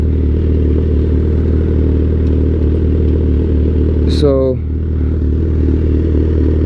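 A 2008 Suzuki GSX-R 1000 with a flash-tuned ECU idles loudly nearby, then the throttle is blipped once so the engine revs up and drops back to idle. A voice briefly speaks over it.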